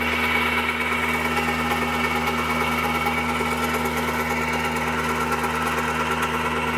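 John Deere 1025R compact tractor running a PTO-driven generator under heavy household load, a loud steady mechanical drone with strong low hum and rattling vibration, continuous and close with no talk.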